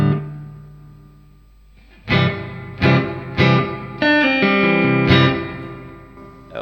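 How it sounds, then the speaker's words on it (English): An electric guitar runs through a vintage Fender Tre-verb outboard reverb unit, sounding a series of struck chords and notes with long, washy tails that ring out and overlap between strikes. "in the room at least, it's rather loud reverb effect"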